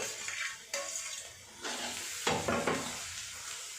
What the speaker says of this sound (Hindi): मसाला भूनने के बाद हम इसमें ये हमारे जो हरी मिर्ची काट के रखी है वो डालेंगे।